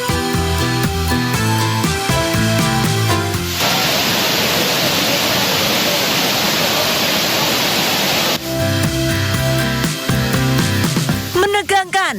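A waterfall with tourists descending its rock wall on ropes gives a steady, dense roar for about five seconds, with music before and after.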